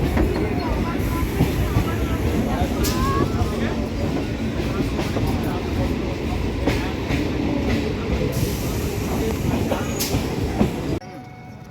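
A passenger train runs steadily with continuous rumbling, rattling and clickety-clack throughout, loud and close as if heard from inside a carriage, with a few brief squeals before the noise cuts out near the end.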